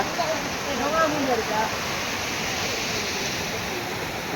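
The Katisil waterfall near Lanjigarh, a loud, steady rush of falling water that fills the whole scene, with a voice speaking over it at the start.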